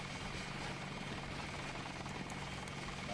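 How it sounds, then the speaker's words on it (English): An attack helicopter in the video game Deus Ex drones with a steady, dense rotor and engine roar, constant and fairly loud throughout, with no talking. "Now can I destroy the attack helicopter?"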